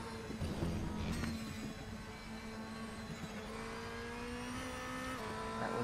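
A race car engine in the RaceRoom racing game, droning steadily under load, with brief pitch drops where the gears shift down before the revs climb again, moderately quiet and without talk.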